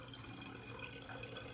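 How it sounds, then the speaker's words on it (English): Water poured through a funnel into a bottle for a homemade bottle xylophone, a steady faint trickling wash that fills the whole short moment with no talk over it. "So if we take another bottle and let's add more water this time. I'm using the funnel"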